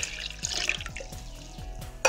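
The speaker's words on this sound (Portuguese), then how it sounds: "aqui no nosso liquidificador, eu vou adicionar 700 ml de água em temperatura ambiente" Room-temperature water, 700 ml, is poured into a blender for eggless-milk pudding, giving a short gurgling, splashing stream with a few dripping knocks and a louder splash at the end.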